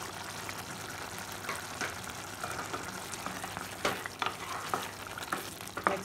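Sorrel leaf curry with chopped tomato stirred in a hot pan, continuous sizzling under irregular scraping strokes of a spoon that grow louder toward the end, no talking.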